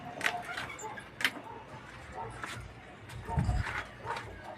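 Motorcycle keys jangle in a few short metallic bursts close by, with rustling and background noise around them.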